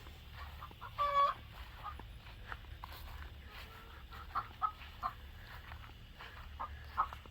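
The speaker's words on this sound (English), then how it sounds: "2 chickens were very proud of themselves because they just laid eggs" Backyard hens cluck and cackle after laying eggs, scattered loud bursts and softer clucks at moderate distance over quiet outdoor ambience.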